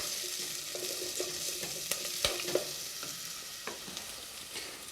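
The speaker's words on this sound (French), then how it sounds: "Nous allons bien remuer." Venison escalope and mushrooms sizzle in a casserole while being stirred, with a steady frying hiss and a few sharp scrapes and clinks of the utensil against the pan, close, with no talking.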